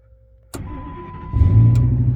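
A car engine cranks with a sharp click, catches and settles into a steady idle, then rises to a louder, fuller running note, heard close with no talk.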